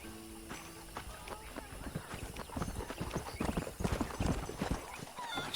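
Horse hooves clip-clopping in the Red Dead Redemption video game, a steady run of hoofbeats with an occasional whinny, building louder toward the end, mixed with game sound and someone talking over it.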